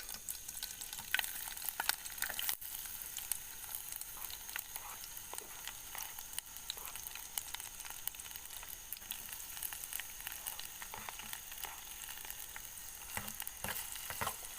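Shallots and spices frying in a pan at a campsite, giving a soft, steady sizzle with light crackles and occasional stirring scrapes, faint and even throughout with no talking.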